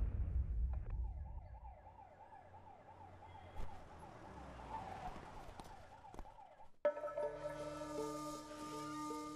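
An ambulance siren wails in a scene from the 2019 political action film Lucifer, a steady, moderately loud rising-and-falling tone lasting several seconds, followed by a sharp shift to a denser, tonal passage.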